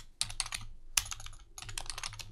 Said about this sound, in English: let's click here on the canvas and we're going to type in